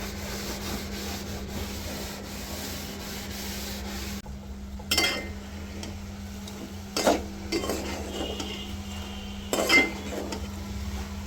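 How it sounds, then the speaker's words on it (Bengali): A gas stove gets rubbed and wiped clean beside a simmering curry, a steady low hum underneath with a few louder scrubbing and clinking bursts near the end, close by and without talk. "আগে রান্না চলতেছে আমার, এই ফাঁকে গ্যাসটা পরিষ্কার করে নিচ্ছি"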